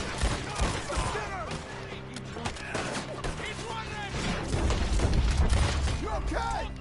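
Rapid gunfire rattles through a Red Dead Redemption 2 shootout, repeated shots and bursts mixed with mechanical clicks, growing heavier toward the end while voices shout over the fighting.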